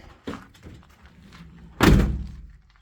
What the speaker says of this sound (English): I'm going to close these doors to end that temptation.